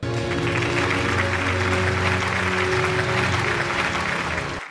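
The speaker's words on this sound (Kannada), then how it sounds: "ಬಲಿ ಚಪ್ಪಾಳೆ." An audience claps at an awards ceremony as guests come onto the stage, sustained dense applause from a large crowd that holds steady and then cuts off abruptly at the end.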